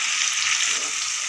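Spice paste for a Bengali bata fish curry frying in a pan, with a steady, dense sizzle that holds even and close throughout, with no talk over it.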